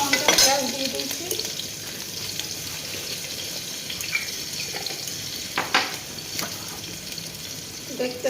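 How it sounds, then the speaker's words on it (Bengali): Onions and dried chili sizzle and fry in a pan, a steady crackle with occasional stirring clinks and a few louder bursts, close up and without talk. "পেঁয়াজ দিয়ে দিচ্ছি, শুকনো লঙ্কা, পেঁয়াজ দিয়ে দিচ্ছি"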